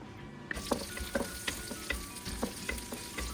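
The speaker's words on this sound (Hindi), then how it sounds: "एक पैन में आधा कप ऑयल का ले लेंगे। एक छोटे प्याज को चॉप कर लिया है। प्याज को ऐड कर लेंगे।" A small chopped onion hits half a cup of hot oil in a pan and sizzles steadily, with several scraping stir strokes cutting through the frying hiss; no voices.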